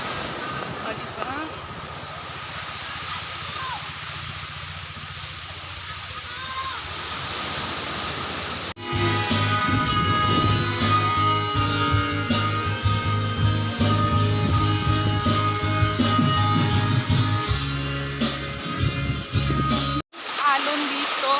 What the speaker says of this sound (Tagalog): Alon dito, oh my God.